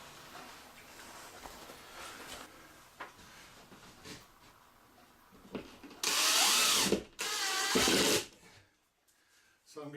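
Power drill driving screws into a sheetrock ceiling, two loud whirring bursts back to back after quieter handling noises and faint talk, ending abruptly.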